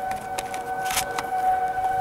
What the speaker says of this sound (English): Freaking civil defense sirens